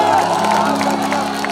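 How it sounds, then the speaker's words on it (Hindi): Crowd noise from an audience at a Bhojpuri stage show, a steady wash of clapping and cheering with scattered whoops, dense and continuous throughout, with faint voices mixed in. "एक जोरदार ताली हल्ला करके बजाइए आप सब"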